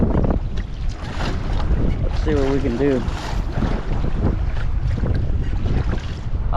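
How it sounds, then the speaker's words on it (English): Strong gusting wind batters the microphone while choppy waves slap around a kayak on open water, a loud buffeting roar with splashes, and someone speaks briefly over it. "Look how crazy the wind is now."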